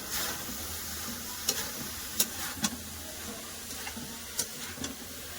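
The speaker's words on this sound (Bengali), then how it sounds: "লাউটা ভালো করে মশলার সাথে কষে নেবো" Bottle gourd being sautéed with spices in a pan for lau chingri: a continuous close sizzle broken by scattered sharp spatula clicks and scrapes, with no talk.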